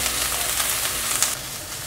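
Seasoned ingredients being stir-fried quickly in a pan over low heat, with salt and pepper added, giving a steady close sizzle and hiss with light scraping from the tossing.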